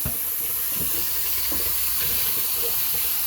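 Rice is rinsed under a running kitchen tap, with a steady rush of water filling and splashing in a pot and soft sloshing as the grains are swirled, close and continuous, no speech.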